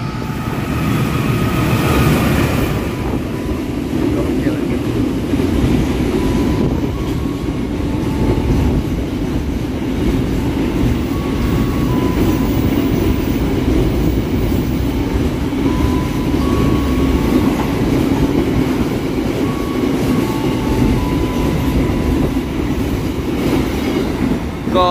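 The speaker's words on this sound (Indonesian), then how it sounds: "Kereta api kontainer lagi ternyata yang melintas." A container freight train rolls past a station, its steady low rumble and rhythmic wheel clatter filling the whole stretch, with faint squeals and tonal hums riding above, loud and continuous without letup.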